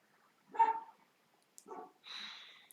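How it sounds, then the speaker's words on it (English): A dog named Rose gives a few separate barks, muffled and distant, with quiet gaps between them in an otherwise still setting. "beautiful Rose barking in the distance"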